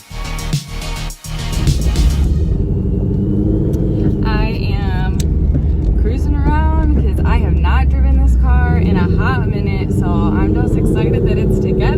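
A Whipple supercharged Ford Mustang drives, a loud steady engine drone and rumble inside the car that holds throughout after a brief opening, with someone talking over it.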